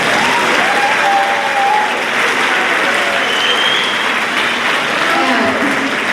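Steady, loud applause from an audience filling a school auditorium during a spring awards assembly, sustained clapping throughout with faint crowd murmur beneath.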